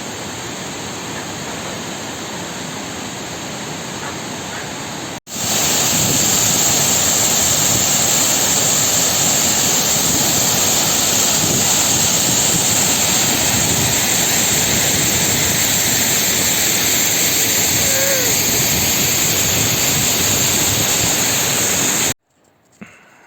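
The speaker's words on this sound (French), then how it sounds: "Je crois bien qu'elle s'appelle la cascade de l'Éventail." The Cascade de l'Éventail waterfall in winter in the Jura, heard as a loud, steady broadband roar of rushing water that cuts in abruptly and holds constant for about seventeen seconds before stopping, with no voices.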